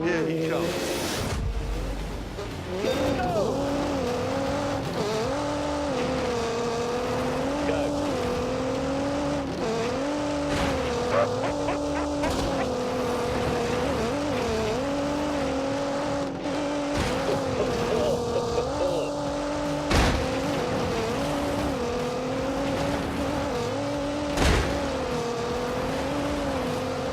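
A race car engine drones and rises through gears on a flying lap in The Grand Tour game, with sustained revving, shifts and tyre noise up close while voices talk over it.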